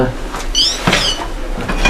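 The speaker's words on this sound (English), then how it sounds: "iron door, and this is where they used to keep it." A heavy solid iron door in Castle Grant, once used to keep important documents safe, swings on its hinge with a creak and a dull thud, close and fairly loud under a speaking voice.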